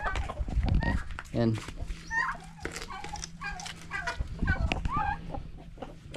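Caged hens cluck and squawk nearby, several calls overlapping, while a person speaks briefly over them.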